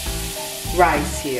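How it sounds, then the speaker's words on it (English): Turkey sausage sizzles in a pan for dirty beer rice, a close frying hiss that swells briefly mid-way, with a voice talking over it. "Now we're gonna start adding our sausage. And I'm using turkey sausage"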